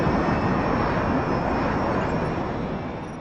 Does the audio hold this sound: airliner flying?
yes